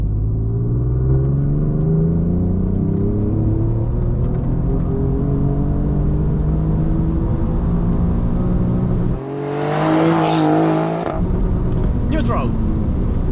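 A tuned Alfa Romeo Giulia pulling hard at full throttle from low revs, its engine note rising steadily in pitch as it accelerates, with a brief gearshift gap and a surge of roaring intake and exhaust afterward, close and loud throughout.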